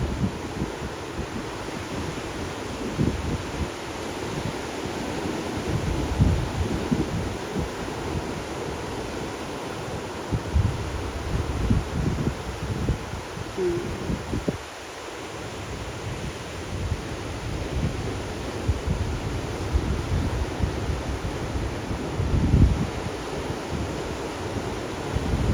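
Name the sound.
big ocean waves cresting at beach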